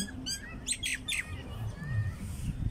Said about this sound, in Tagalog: Uy, may ibon dito sa likod ko.